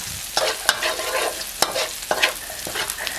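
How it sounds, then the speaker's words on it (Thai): Chilies and garlic are stir-fried in a pan: a close, steady sizzle with repeated scraping strokes and sharp clacks of the utensil against the pan, heard alone without talk. "เมื่อเราผัดพริกกับกระเทียมได้ที่แล้วนะครับ"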